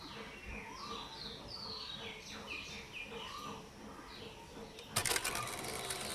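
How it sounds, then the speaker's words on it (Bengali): Several birds chirp and sing in short whistling phrases, fairly faint against a quiet outdoor background, with a brief clatter near the end. "আর দেখো পাখিগুলো কি সুন্দর ডাকছে।"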